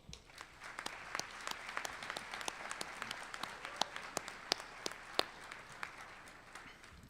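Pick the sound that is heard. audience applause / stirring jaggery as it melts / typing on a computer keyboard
audience applause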